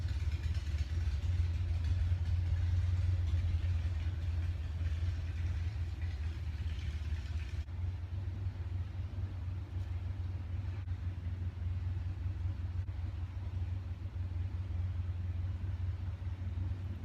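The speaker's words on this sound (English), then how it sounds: "If somebody would just turn off their GD motorcycle" A motorcycle engine running nearby in a home setting, with a steady low rumbling drone that holds at an even level the whole time and no talking.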